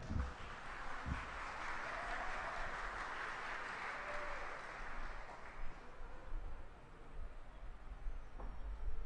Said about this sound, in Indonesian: Mohon beri tepuk tangan yang lebih meriah lagi.